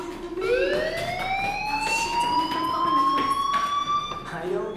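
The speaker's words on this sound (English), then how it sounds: "Hey, do you hear that fire alarm?" A fire alarm wailing in the Life is Strange video game, a rising electronic siren tone that sweeps up and holds steady, loud and continuous over a quiet background.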